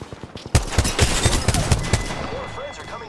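Apex Legends video game gunfire: a rapid burst of close, loud automatic shots over about two seconds, followed by fading game effects, with a voice talking.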